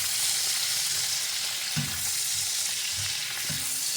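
Chanterelle mushrooms and onions sizzle steadily in a hot frying pan, a dense continuous crackle with a few soft stirring knocks from a utensil.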